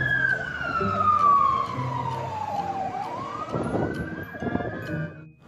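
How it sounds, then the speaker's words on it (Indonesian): A fire truck siren wails nearby, its pitch falling and then rising again in a long sweep over traffic rumble. It stays loud and close before cutting out at the end. "ada mobil pemadam kebakaran."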